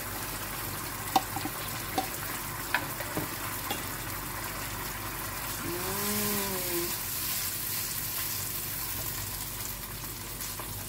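Sauce for sweet and sour crab is added to the pan and fries with a quiet, steady sizzle, broken by a few light clinks near the start.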